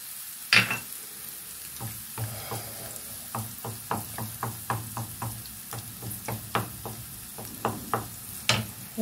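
Tomato and spices fry in a pan with a steady sizzle while a spoon stirs and taps against the pan in a regular rhythm of close knocks, with no talking.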